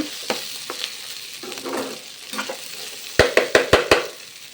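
Okra fries over high heat in a pan, a low sizzle broken by scattered scrapes, then a quick loud run of five clattering strikes near the end.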